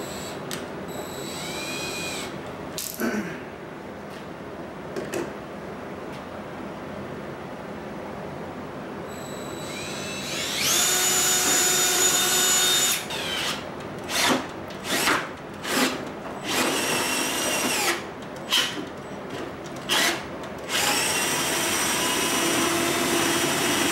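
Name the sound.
electric drill drilling a pilot hole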